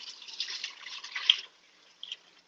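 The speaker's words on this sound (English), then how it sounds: "So I'm just going to pour this in." Four cups of bouillon broth pour into a pan while vegan creamy mushroom ramen is being made. A soft, splashy stream runs for about a second and a half, followed by a couple of light drips.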